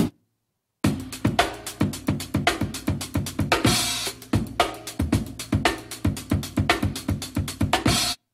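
Breakbeat drum loop pitched up seven semitones, the kick taking on a higher, tighter tone; punchy hits repeat in a steady, loud rhythm after a brief silent start, with bright cymbal bursts and no voices.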